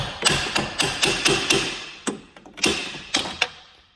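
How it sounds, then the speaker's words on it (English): Hammer whacks knocking a ball joint out of a lower control arm on a 2005–2010 Chevrolet Cobalt or Pontiac G5, about ten sharp metallic strikes in a quick uneven rhythm, close and loud, with short pauses. "we're going to take a hammer, give this good couple whacks"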